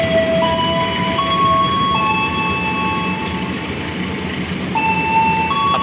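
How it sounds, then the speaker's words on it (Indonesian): The Sembrani train rumbles past and overtakes, heard from aboard the Bengawan train: a continuous heavy rolling roar with thin, sustained high metallic squeals and tones shifting over it, loud and steady throughout, without speech. "Jadinya kita disusul dengan kereta Sembrani ini."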